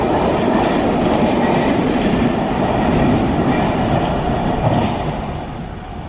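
A MARTA subway train in Atlanta running on rails, a loud, close, continuous rumble with clickety-clack wheel noise that eases slightly near the end.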